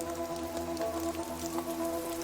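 Steady rain falls across the whole stretch, a dense even patter on leaves in a tropical forest where hummingbirds bathe, with no voices.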